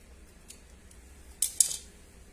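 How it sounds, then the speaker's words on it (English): Two quick, crisp scissor snips trimming a rub-on image transfer for furniture, close and fairly quiet against a hushed room. "I did notice there's a little bit that needs to be trimmed."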